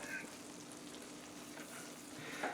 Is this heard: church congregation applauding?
no